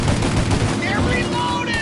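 Dense gunfire in a video game shootout from Mafia: Definitive Edition: rapid overlapping shots and bursts, loud and continuous, with faint voices underneath.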